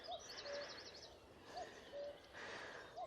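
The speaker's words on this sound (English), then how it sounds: "Cuckoo." A cuckoo calls its two-note song several times, faint and distant, in a Somerset wetland nature reserve at Ham Wall, with a small bird chirping briefly and light outdoor background noise.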